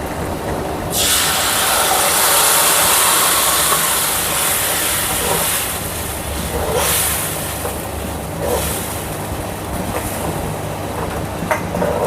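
Tempering for fasting-style soft farali idli batter sizzles hard in hot oil, a loud, steady hiss that starts abruptly after about a second and keeps going with occasional swells, with no voices.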